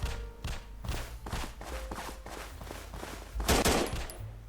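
Gunfire in the survival video game Escape Hell Island, a run of rapid shots and bursts spread across the clip with a loud cluster near the end, heard with game background noise and no talking.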